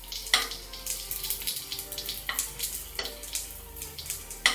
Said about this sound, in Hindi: हम इसे मीडियम फ्लेम पे पका रहे हैं, ज़्यादा हाई फ्लेम पे नहीं पकाना है इसे